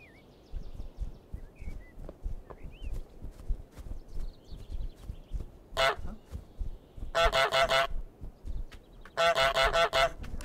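Goose honks in Untitled Goose Game sound as loud, nasal, repeated bursts, close and alone, with steady pattering footsteps and light game sounds between them.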